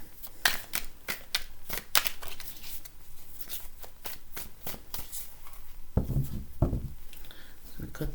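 A deck of tarot cards is shuffled again and again in close, crisp riffling bursts, with a heavier bridge or cut near the end.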